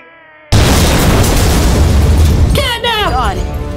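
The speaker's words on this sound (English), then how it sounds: "Didn't you see that explosion?" A Catnap video game explosion erupts with a sudden, loud blast and then a sustained, roaring rumble that fills the rest of the clip, and a voice calls out near the end.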